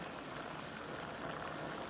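Pot of turnip and mustard greens with a little water, lidded and steaming on low heat, giving a steady soft bubbling hiss throughout.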